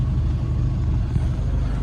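A parked car's engine idles steadily while warming up, a continuous low rumble with a faint periodic throb, close and fairly loud, with no talk.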